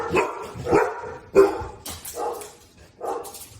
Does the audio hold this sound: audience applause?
no